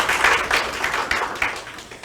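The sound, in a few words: audience applause at a symposium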